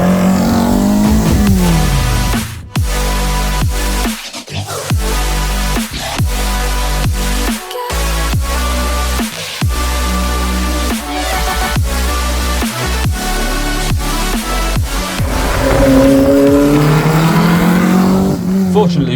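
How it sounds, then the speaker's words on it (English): A loud cammed, carbureted Peugeot 205 1900 GTI stage rally car engine revving hard and shifting through gears, with sharp gear-change gaps and rising and falling pitch. A voice talks over it at times. "this is a CAMMED, carbed stage rally Peugeot 205 1900 GTI"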